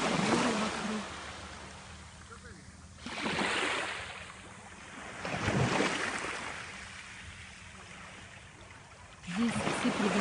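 Sea waves at Kalamaki Beach near Corinth, Greece, on an overcast day surge and wash ashore in slow swells every few seconds, rising and falling against a constant hiss of wind and water.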